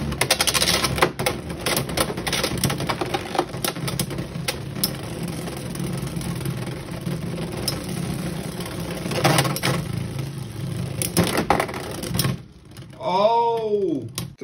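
Two Hasbro Beyblade X tops, Chain Incendio and Arrow Wizard, battle with a continuous, rapid metallic clatter and rattle that is close and loud for about twelve seconds. It then breaks off, and a voice calls out near the end.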